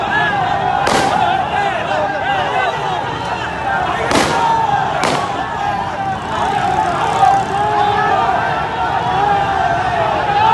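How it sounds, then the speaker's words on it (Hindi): Gunfire by Rangers at a street rally in Karachi: three sharp cracks, some distance away, cut through a continuous crowd roar and shouting voices. "रेंजर्स की तरफ से फायरिंग जारी है"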